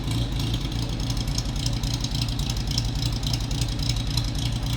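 A 1954 MG TF convertible engine idles steadily with a low, lumpy throb and a slight rhythmic unevenness, close by and continuous.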